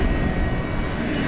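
At DFW Airport at night, a UPS aircraft takes off, producing a brief, dense, loud engine roar with no voices over it.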